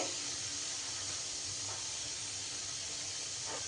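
Puri sizzle in hot oil with a loud, steady close-up hiss and faint bubbling, occasional brief spatters rising above the constant frying noise.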